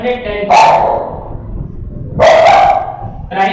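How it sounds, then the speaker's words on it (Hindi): Two house dogs bark loudly nearby in short repeated bursts, three sharp barks spaced about a second apart. "आपको डॉग की आवाज आ रही है?"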